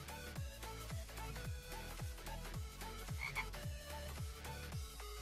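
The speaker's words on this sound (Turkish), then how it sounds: "bildiğiniz kurbağa olmuş bu" A frog creature in a Minecraft mod croaks over and over in a steady, rapid rhythm, each croak a loud, low gulping pulse repeating roughly twice per second with no talking.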